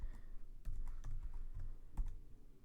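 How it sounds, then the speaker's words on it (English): Quick light keystrokes on a computer keyboard, a short irregular patter of soft clicks heard close against a low background hum, with no one talking. "Let's type in some random values."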